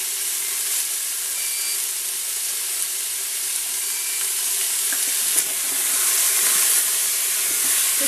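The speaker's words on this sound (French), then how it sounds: "J'ajoute les oignons." Onions fry in a pan with a loud, steady close-up sizzle and crackle that holds throughout, with no voices.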